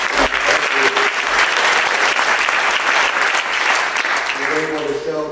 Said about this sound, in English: it's worth a round of applause